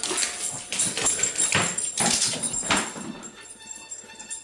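A dog whimpering close by in a series of thin, whiny cries that rise and fall over a few seconds, with no talking.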